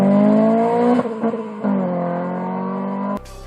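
A Honda Accord Type R's aftermarket exhaust drones loudly with a steady engine note, dipping briefly a few times as the revs shift, then cutting off near the end.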